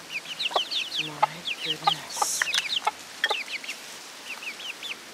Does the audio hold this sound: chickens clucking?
yes